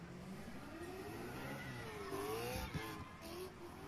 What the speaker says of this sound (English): That Beamer sound good, though.